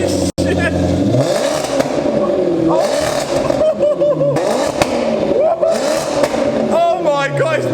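A straight-piped Maserati GranTurismo with its 4.2 V8 revs loudly up close, the exhaust crackling and popping between throttle blips while excited voices talk and shout over it.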